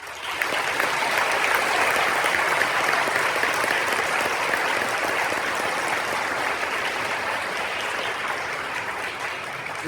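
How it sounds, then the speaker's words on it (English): Sustained, dense applause from a large audience at a high school veterans ceremony at Joliet Central High School, loud and steady for about ten seconds with no talk over it. "Please join me in giving a round of applause"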